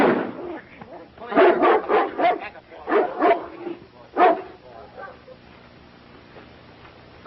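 Dog barking in an old 1937 western film, a burst of several sharp barks in quick succession, then one more bark before fading into quiet room tone.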